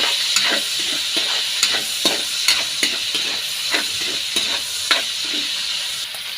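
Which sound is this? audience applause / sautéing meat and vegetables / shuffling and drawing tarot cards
sautéing meat and vegetables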